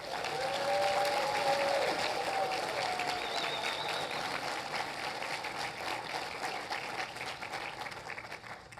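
An audience at a homecoming gala applauds alumni association awardees, sustained clapping that swells loud at first and then slowly tapers, with a faint tone and murmur underneath.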